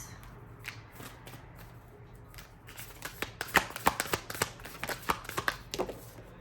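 Oracle cards being shuffled by hand, close up: a quiet start, then a rapid run of crisp riffling flicks and slaps that grows denser and louder.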